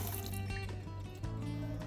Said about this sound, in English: Turn the water valves back on, then turn it on and see if you get a good flush